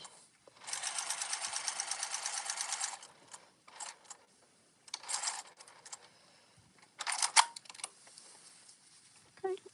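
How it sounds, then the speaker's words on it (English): A sewing machine top stitching folds: a steady, rapid mechanical whirr for a couple of seconds, then several shorter stitching bursts separated by pauses, close and moderately loud. "we just want to top stitch these folds"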